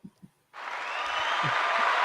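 An audience bursts into steady applause for a guest on a retro gaming talk show after two soft thumps, a dense, close wash of clapping that holds until the end.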